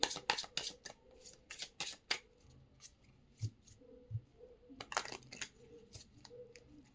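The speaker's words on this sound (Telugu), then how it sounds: "Last shuffle." Tarot cards being shuffled close by, several quick riffling bursts at the start and again near the end, with softer taps and handling sounds in between and no talking.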